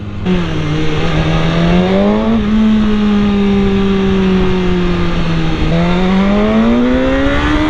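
A 2018 BMW S1000RR sport motorcycle engine revs up and holds a high, steady whine, dips, then climbs again as it accelerates hard in town.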